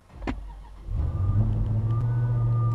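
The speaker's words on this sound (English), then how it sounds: "we're going to go ahead and fire the car up" A car engine cranks briefly, catches and settles into a steady, close idle, with a low rumbling hum that holds after the start.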